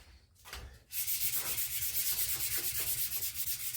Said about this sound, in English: that's all I do with the mouse sander. And I come back through with 400